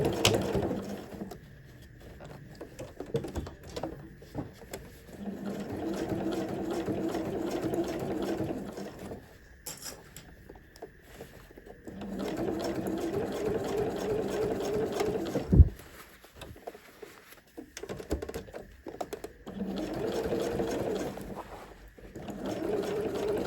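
A sewing machine back stitching around the raw edges of a fabric bag, its motor whirring in several steady runs separated by short pauses, close and clear with no talking.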